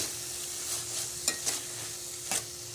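Soft scraping and stirring of mint and coriander leaves in a frying pan over a faint sizzle, with a few sharper clicks of a utensil against the pan.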